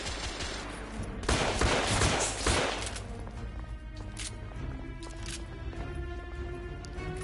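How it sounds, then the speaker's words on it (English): Bursts of machine gun fire ring out in The Order 1886, with a heavy volley from about one to two and a half seconds and scattered shots and clatter afterward, at moderate loudness with no talking. "She's got a bloody machine gun."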